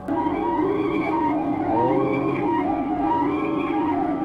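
A steady electronic alarm in the video game Shishite Nao -Even in Death- drones on without a break, its wavering tones rising and falling in a looping pattern, fairly loud and with no voices.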